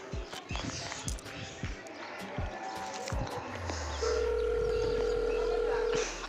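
A steady telephone ringback tone during a call in a Punjabi short film, sounding as a sustained even tone over indoor background noise with some thumping movement before it.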